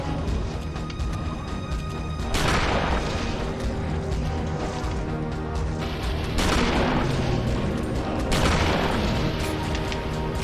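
Automatic gunfire in the survival horror game Eternal Darkness: Sanity's Requiem, booming shots erupting in a few separate bursts over a dense, droning in-game backdrop.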